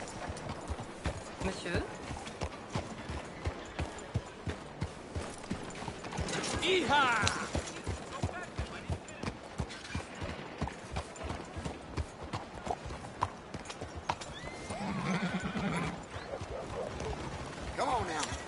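Rapid clip-clop of horse hooves in the video game Red Dead, a steady galloping rhythm with a brief whinny partway through and a short spoken word.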